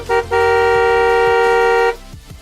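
Car horn honking in Taiwanese traffic at a slow start from a red light: a short tap then a long sustained blare of about a second and a half, loud and close, with engine rumble underneath.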